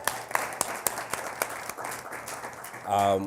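Brief scattered hand clapping at a monthly school board meeting, a few sparse claps from a small group, followed by a voice speaking.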